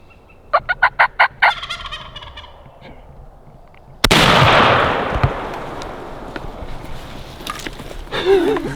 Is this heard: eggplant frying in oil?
no